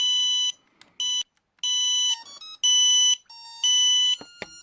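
Loud electronic beeping from a Simtoo Dragonfly Pro drone after its battery is powered on, in repeated bursts, steady high tones switching on and off with short gaps between them.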